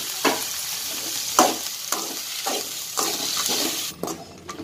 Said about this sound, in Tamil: சேர்த்துட்டு இதை நல்லா வதக்கிக்கலாம்.